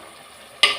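Curry leaves dropped into a hot clay pot for mutton kulambu, a faint hiss suddenly bursting into a short, loud sizzle that then fades slightly.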